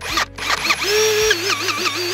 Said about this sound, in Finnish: Sitten ei muuta kuin pora laulamaan.